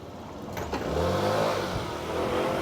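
Engine of a paper delivery woman's vehicle on a residential street in Japan, a mid-pitched motor rising as it revs and pulls away, loud and close with no talk.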